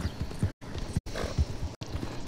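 Horse hooves clip-clopping in Red Dead Redemption 2, a steady rhythmic run of close, moderately loud thuds broken by a few brief silent gaps, with no voices.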